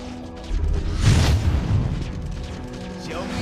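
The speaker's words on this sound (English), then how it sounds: "Turret has been destroyed." A turret is destroyed in the Mobile Legends video game, setting off a heavy, booming explosion that swells and rumbles for about a second before settling into a lingering low roar.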